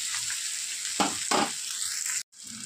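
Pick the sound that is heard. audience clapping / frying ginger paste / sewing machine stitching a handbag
frying ginger paste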